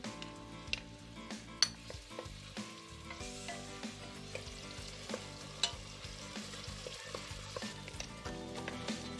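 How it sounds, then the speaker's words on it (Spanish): Onion, garlic and leek fry in a pan with a steady sizzle, sharp stirring clicks scattered throughout, and continuous tonal background music underneath. "Para freír la cebolla, el ajo y el puerro y orégano."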